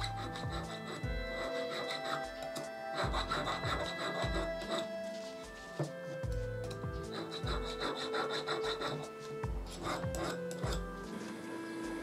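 Steady back-and-forth rasping of a hand file on an iron sword guard for Higo inlay work, a rhythmic series of scraping strokes, close and continuous with no talking.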